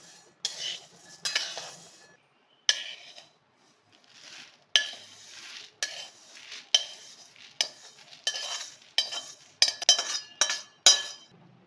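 Masoor dal dry-roasting in a pan for metkut, stirred with a utensil that gives a steady run of close, bright clinks and scrapes against the metal, in bursts with short pauses.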